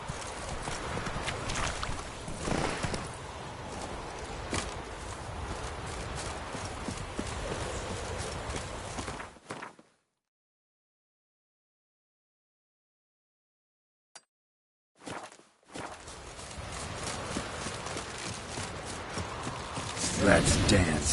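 Horse hooves clip-clop steadily in The Witcher 3 while riding, a continuous close rhythm that drops out to silence midway and then resumes.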